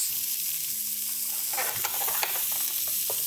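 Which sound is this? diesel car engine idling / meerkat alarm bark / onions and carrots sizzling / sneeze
onions and carrots sizzling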